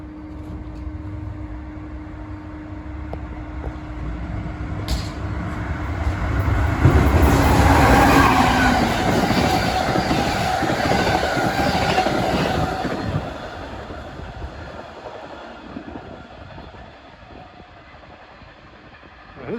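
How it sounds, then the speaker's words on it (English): An Amtrak Keystone Service train hauled by an ACS-64 electric locomotive rumbles past at Bryn Mawr, building to a loud roar with rhythmic wheel clatter and faint squealing before fading away into the distance. "here comes an Amtrak ACS64 on train 647 en route from New York to Harrisburg."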